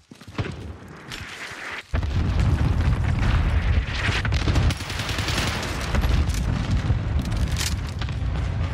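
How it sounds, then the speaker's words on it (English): A grenade blast in the Warzone 2 video game lands after a short quiet pause, then a heavy, rumbling barrage of explosions and gunfire roars on loudly and continuously to the end. "Grenade out!"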